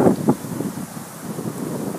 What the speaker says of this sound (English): There's a little more gust picking up here